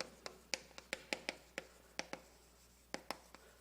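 Chalk or marker taps and strokes on a board in a quick irregular series of sharp clicks, close and fairly quiet, with no talking.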